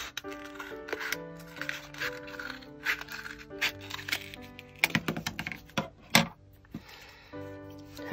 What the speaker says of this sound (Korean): 가위로 자릅니다